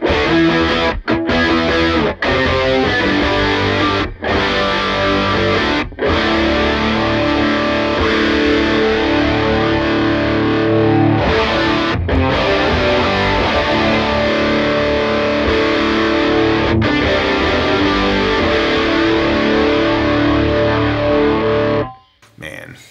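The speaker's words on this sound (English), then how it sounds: "So I've got the stage 2 on, so it's a lot of gain, and the MicroPitch." Heavily distorted electric guitar through an Eventide H90 MicroPitch effect, with a thick, shimmering pitch-shifted doubling, playing sustained chords and riffs loudly for over twenty seconds, then stopping abruptly.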